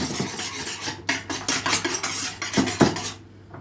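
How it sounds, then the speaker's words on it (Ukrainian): A utensil mixing cheese roll filling in a bowl until smooth, a close run of rhythmic scraping and rubbing strokes, fairly loud and steady, with no talking. "ще раз вимішуємо. До однорідності."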